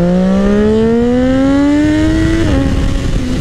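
A Triumph Daytona 675R sport motorcycle engine roars loud and steady, pitch climbing smoothly as it revs up, then dropping slightly as it shifts.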